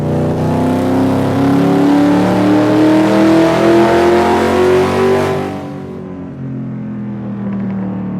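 Racing video game car engine revving hard and loud with rising, stacked harmonic tones, driven with a very tight clutch and no turbo, then dropping off abruptly to a quieter low idle near the end.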